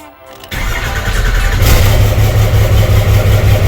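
A Cummins 5.9 12-valve diesel swapped into a Ford truck cranks briefly, then fires and settles into a loud, steady, rumbling idle close to the microphone.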